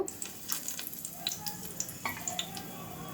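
Chopped onions and green chillies frying in hot oil in a pan for a fish curry, a soft continuous sizzle with scattered small pops and crackles, close and fairly quiet, without talk.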